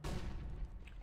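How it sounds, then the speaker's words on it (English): A flashbang grenade goes off in CS:GO, a short heavy low boom that rings on briefly at a moderate level. "Throwing flashbang"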